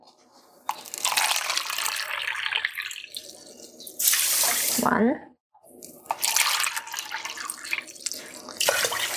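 Water gushes from a kitchen tap into a pot to measure cups for cooking jasmine rice, in several loud bursts with short pauses between fills, while a person talks between the pours.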